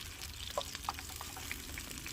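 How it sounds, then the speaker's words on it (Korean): Pork belly fries in its own oil as it is cooked on top of a vehicle, giving a faint, steady sizzle. Scattered small pops and crackles run through it, and no one speaks. "기름이 이 고기 사이를 거의 튀기고 있어요."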